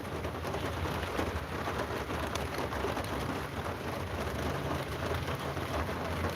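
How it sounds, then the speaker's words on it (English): Steady rain falls in a dense continuous hiss on surfaces outdoors, even and unbroken throughout, with no voices. "It's raining now."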